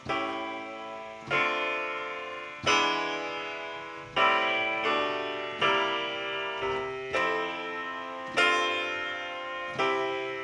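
A sequence of sustained, bell-like piano chords, struck roughly every one to one and a half seconds and each ringing out before the next.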